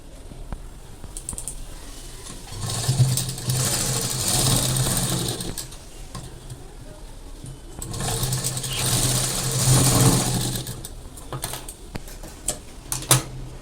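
A sewing machine stitches the lined front panel of a katori blouse, running in two long bursts of rapid whirring and clatter, with quieter pauses between them and some handling clicks, and no voices.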